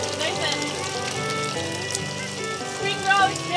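Batter sizzles in hot oil at a campsite, a continuous crackling hiss like light rain, while people talk over it.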